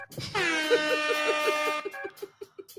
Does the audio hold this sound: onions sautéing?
no